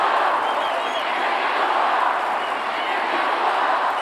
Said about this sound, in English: Let's have a listen to the crowd.